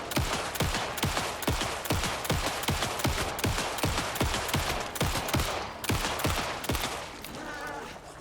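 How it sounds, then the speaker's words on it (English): A long burst of rapid gunfire empties a full magazine in the Alan Wake 2 video game, fast regular shots over several seconds, then a short tail of fainter effects. "Just mag dumped on her"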